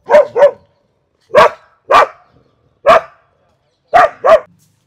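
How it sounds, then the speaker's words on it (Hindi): A timid dog barks sharply in a series of seven loud, close barks, mostly in quick pairs separated by short silences. "अभी आपने इसको डॉगी को भौंकते हुए देखा।"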